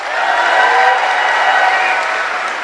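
An audience applauds a mentor at a business event, a steady wash of clapping for a few seconds with no voices over it.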